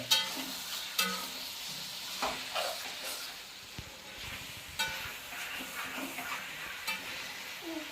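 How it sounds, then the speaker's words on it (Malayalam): Chicken is stirred with masala in a pot for Eid biryani: a low steady sizzle broken by repeated scraping and clanking stirs of a utensil against the pot, recurring every second or so. "ആ ചിക്കൻ അങ്ങനെ ഇട്ട് കൊടുത്ത് നല്ലോണം നമുക്ക് ഇളക്കാം മിക്സ് ചെയ്യണം മസാലയായിട്ട് മിക്സ് ചെയ്യണം"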